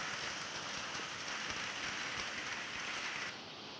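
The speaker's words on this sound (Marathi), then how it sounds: "वाळवा तालुक्यातील वारणा पट्ट्यात अवकाळी पावसाच्या सरी बरसल्यात" Unseasonal rain showers fall in the Warna belt of Walwa taluka in Sangli district, a faint, even hiss of rain on surfaces that drops slightly in level at the end.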